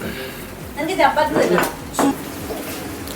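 A spoon scraping and knocking inside a metal cooking pot as food is stirred, a few clattering strokes close by over a low background hum.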